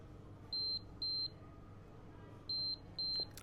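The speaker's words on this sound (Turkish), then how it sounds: "alarm sistemi devreye girer ve sizi uyarır bebek kendini açtı diye" Four short, steady electronic beeps in two pairs from a Kraft Royal Pr i-Size child car seat's buckle alarm, clear and fairly loud over a low background hum.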